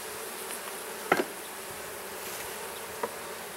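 Honey bees buzzing around a hive comb, a steady faint hum of many insects with a couple of brief closer buzzes passing, no talk.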